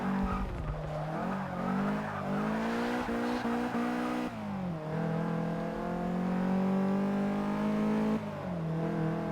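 Race cars in Forza Motorsport 6 roaring around the Daytona small track, engines droning loud and continuous with gear shifts, rising revs and brief tire squeal through the corners.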